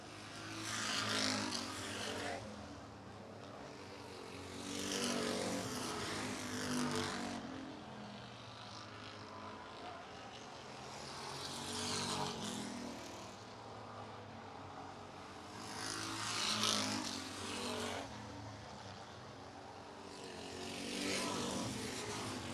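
Race cars lapping an oval at Barrie Speedway, engines roaring past in repeated loud swells that rise and fade every few seconds, with a steady mechanical drone beneath.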